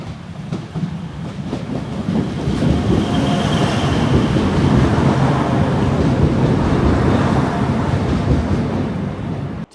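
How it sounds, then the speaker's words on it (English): A Class 175 diesel multiple unit, number 175114, on a test run rolls through a railway station toward Newton Abbot, its rumble building and holding steady and loud with rhythmic wheel clatter throughout. "175114 should be on test today, passing through this railway station, heading towards Newton Abbot."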